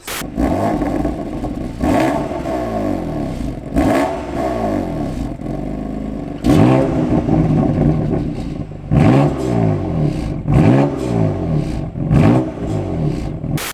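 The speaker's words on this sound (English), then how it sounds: "it actually opens up the exhaust valves and makes it sound a sort of little bit louder" A BMW M3's exhaust, with its exhaust valves open, revs repeatedly, loud and close, with deep burbling between sharp throttle blips and a resonant drone.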